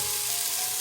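Celery goes into a pot of cabbage soup and sizzles, a dense, steady hiss of frying filling the brief moment, close and fairly loud with no talk.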